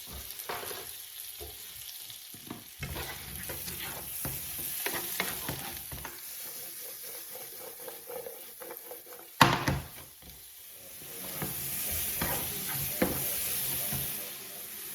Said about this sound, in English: we're going to put the mushrooms that we just chopped up, and we're just going to put them in there, and we're just going to cook them a little bit